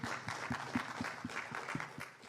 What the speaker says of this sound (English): I think she deserves a big clap.